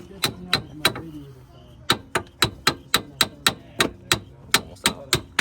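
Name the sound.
hammer striking a car part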